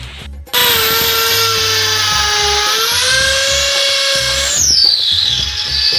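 A power drill drives a screw while a TV bracket is being installed. The motor starts abruptly and whines loudly and steadily at close range for several seconds, its pitch sagging slightly under load before winding down.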